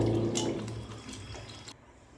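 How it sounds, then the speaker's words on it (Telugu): Water is poured into a pan of Telugu-style fish curry, giving a short splashing, gurgling pour that thins out and stops abruptly near the end, close and moderately loud with no talking. "వాటర్ పోసేసుకుందాము"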